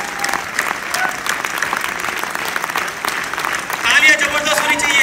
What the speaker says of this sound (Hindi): तालियां जबरदस्त होनी चाहिए।